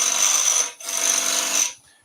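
A gouge makes a skew cut on elm spinning on a lathe, a loud, close, hissing shear with a steady whine, in two sustained passes split by a brief gap, then fades to quiet.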